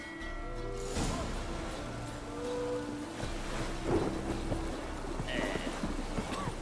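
Rain and thunder on Skellige in The Witcher 3 video game: a dense, continuous rain hiss with low rumbling, plus scattered tonal game sounds over the top.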